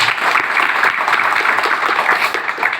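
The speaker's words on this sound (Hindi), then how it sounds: "एक बार तालियां हो जावे।" Audience at a product sales seminar breaking into applause, a crowd of hands clapping in a busy, fairly close patter that carries on without pause.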